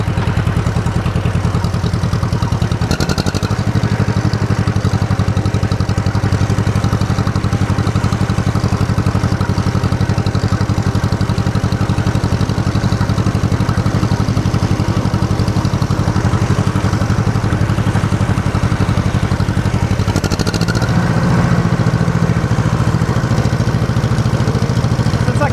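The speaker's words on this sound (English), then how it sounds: "Clean the carburetor, it runs good now." An old engine idles steadily after its carburetor was cleaned, a continuous low, even chugging with a loud, unbroken clatter and two brief dips in the rhythm.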